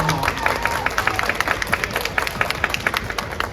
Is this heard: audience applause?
yes